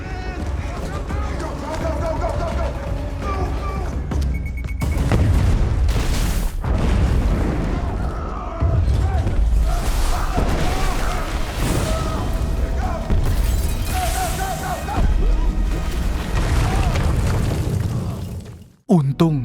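A bomb blast inside a tunnel in an action film: heavy, rumbling booms and broadband roar fill most of the stretch, with shouting voices mixed in before a sudden cut to near silence at the end.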